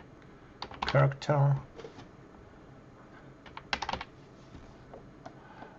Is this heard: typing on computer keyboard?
yes